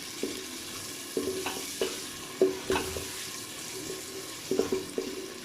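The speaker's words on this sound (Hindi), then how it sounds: "प्याज को हमने ब्राउन नहीं करना, सिर्फ सोते करना है।" Soft sizzling of onions sautéing in a pan, not browned, with repeated scraping stirs at irregular intervals, close and fairly quiet, no talking.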